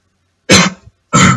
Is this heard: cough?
yes